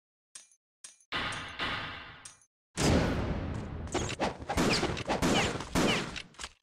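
Bursts of enemy gunfire in Ninja Gaiden Sigma, a few sharp cracks and then a dense, loud rattle of rapid shots with sharp impacts and debris, close and continuous.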